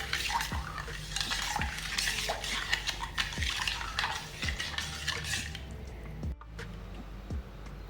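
A spoon stirs sugar and a pinch of salt into coconut milk for a pudding, with repeated soft scraping and clinking against the pot and light liquid sloshing, close and steady throughout.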